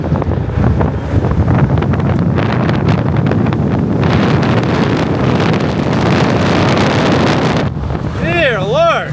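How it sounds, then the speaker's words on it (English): A Tommebike Icon electric bike races at speed, buried under a loud, constant rush of wind battering the microphone, with a short voice-like sweep near the end. "we're about to race the Icon, the Tommebike Icon."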